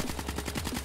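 Rapid automatic gunfire from a shooter video game rattles in a quick, even burst of closely spaced shots, moderately loud and without talk.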